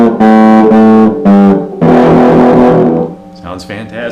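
Distorted electric guitar chords from a damaged Peavey Predator EXP Plus played through overdrive, several loud strummed chords with short breaks, then a denser ringing chord that fades out into softer noise near the end.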